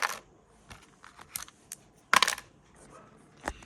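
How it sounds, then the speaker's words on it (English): A few light plastic clicks and rattles as dice tumble and knock together on a handheld backgammon board, with one sharp louder clatter in the middle, close and otherwise quiet. "I'll roll the dice so you can hear what it sounds like."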